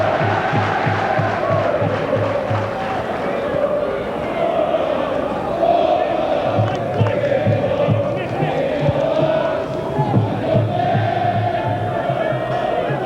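The home crowd at a Yeovil Town v Liverpool FA Cup third-round football match makes a dense, steady roar of cheering and chanting that carries on without a break, with a commentator talking over it.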